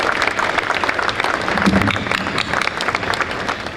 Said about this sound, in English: Only when you took on something, clap your hands.